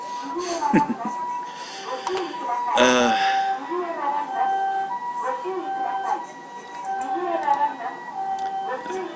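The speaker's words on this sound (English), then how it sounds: "Ambulance" An ambulance siren wails with a repeating rising and falling tone, loud and steady over traffic noise, with a brief horn blast early on.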